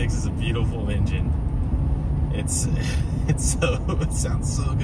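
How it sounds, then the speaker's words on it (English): GMC Sierra 2500HD pickup with the L96 engine running steadily while driving at night, a constant low rumble throughout, with someone talking over it. "L96 is a beautiful engine."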